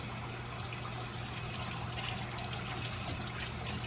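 Water runs from a kitchen tap for hand washing while cookies are being made, a soft steady trickle and splash heard close and fairly quiet, with a faint hum underneath and no speech.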